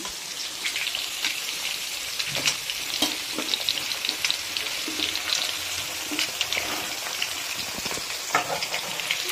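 Potatoes sizzle and crackle steadily in a hot pan, with occasional louder pops and the scrape of stirring.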